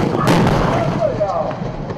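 Howitzers, including 8-inch guns, fire toward the sea during a joint military exercise on the Houhu coast of Kinmen; one sharp, loud blast lands early, followed by a rolling rumble that fades slowly.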